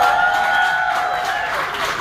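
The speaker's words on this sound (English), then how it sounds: "give a round of applause" A crowd's round of applause, a dense, loud wash of clapping and crowd noise with a faint whistle-like tone early on, continuous and fairly close throughout.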